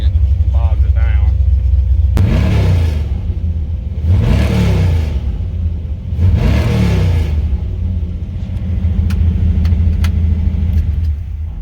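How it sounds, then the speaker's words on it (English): A carbureted car with a three-speed transmission pulls away down the road, its engine rumbling loud and close in repeated surges as it revs through the gears. "I did a quick little rip down the road and back anyhow."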